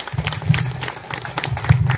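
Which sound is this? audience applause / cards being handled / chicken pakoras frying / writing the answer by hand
audience applause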